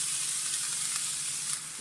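Chopped large onion sizzling in hot oil in a pan for soft uppumavu, a steady, close, even hiss running throughout with no talk.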